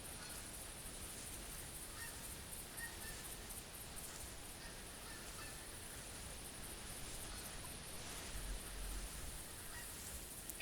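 Geese honk in a hunting video game set in the Hirschfelden reserve, with pheasants nearby. A steady wash of honking and outdoor ambience runs throughout, fairly even in loudness, with no voices.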